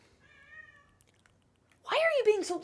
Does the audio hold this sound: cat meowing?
yes